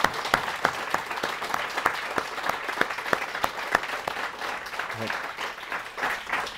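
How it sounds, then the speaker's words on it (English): Audience applause at an awards ceremony keynote, steady clapping from a room full of people honouring a team, sustained throughout at moderate level with sharp individual claps standing out. "if you can all just join me in giving them a round of applause"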